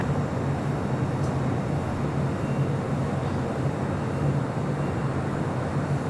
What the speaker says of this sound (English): This is the Delta A321 Neo coming in from San Diego